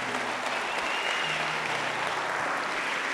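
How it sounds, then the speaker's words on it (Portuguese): Congregation at a church congress applauding steadily, a dense even wash of clapping that fills the whole moment with no voices over it. "Pode aplaudir ao Senhor."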